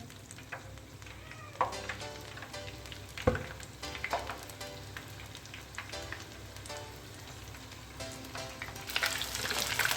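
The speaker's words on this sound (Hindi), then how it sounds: "तो ये बाकी के पीसेस भी मैं इसी तरीके से फ्राई कर लेती हूँ अच्छे से।" Chicken pieces fry in a pan, a continuous rain-like crackle and spatter with scattered pops and occasional utensil clicks, close and fairly steady, growing louder and hissier toward the end, no one talking.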